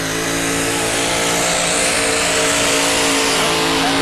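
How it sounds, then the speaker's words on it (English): A supercharged pulling truck at a truck and tractor pull runs loud and close, its engine roaring steadily with a high blower whine layered over it throughout. "Listen to that blower whine."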